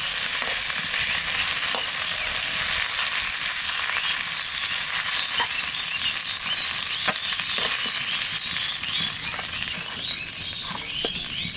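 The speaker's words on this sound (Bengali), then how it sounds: "মাথাটা একটু ভেজে নিলাম, এখন তুলে নেব।" Hilsa fish head frying in hot oil, a loud, dense, continuous crackling sizzle heard close up, with a few faint taps mixed in and no voices.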